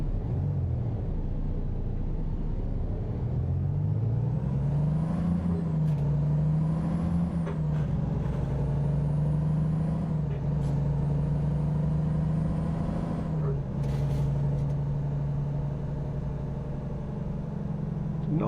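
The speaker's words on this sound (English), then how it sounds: "There goes the brakes again." Truck air brakes hiss in American Truck Simulator, a soft, sustained release over a steady low diesel rumble and road drone that runs through the whole stretch, with no talking.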